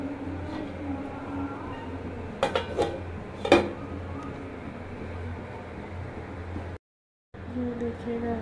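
A metal lid set onto a pot of taro leaf curry, giving a few close clanks and a brighter clatter over a steady low background hum.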